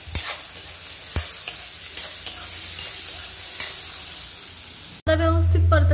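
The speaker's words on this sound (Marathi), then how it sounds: "तर व्यवस्थित परतून घ्यायचं कांदा।" Four medium-sized onions sautéing in a pan while a utensil scrapes and stirs them, giving a steady low sizzle with regular clinks. A louder, brighter frying burst takes over near the end.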